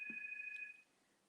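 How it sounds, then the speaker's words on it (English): A telephone rings once indoors, a steady electronic tone that fades out partway through, quiet and alone without talk. "There's a phone ringing."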